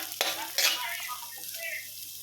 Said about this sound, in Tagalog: gisain natin yung ating luya para malasa po. Ayan po, gisa natin yung bawang